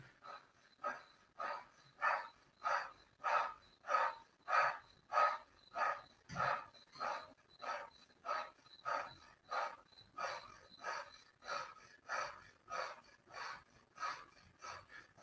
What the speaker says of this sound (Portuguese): Aqui em cima a respiração, forte.